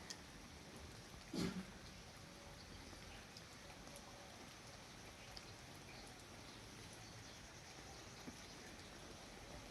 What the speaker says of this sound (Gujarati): આજે અચાનક વરસાદ આવી ગયો છે